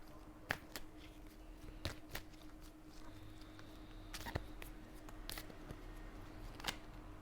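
Cards riffle and snap in short bursts at close range, a quiet shuffle with faint taps between, no talking.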